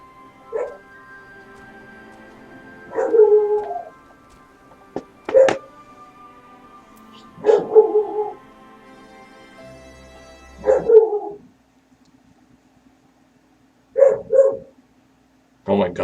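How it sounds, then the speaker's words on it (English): A dog barks and howls in bursts at a steady rhythm, several separate yelping, wailing calls spaced a couple of seconds apart, fairly close, heard over a quiet background hum. "Oh my god, that dog."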